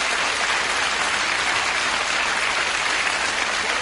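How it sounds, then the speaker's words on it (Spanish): Steady, dense applause from an audience greeting new members at a gathering, an even wash of clapping that holds at the same level throughout with no voices over it. "Un gran aplauso para todos."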